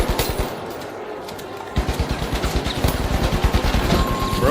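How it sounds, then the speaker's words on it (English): An AK rifle firing in rapid automatic bursts in a video game, dense loud crackling gunfire with a brief lull before another sustained volley. "Bro whiffed every single AK shot."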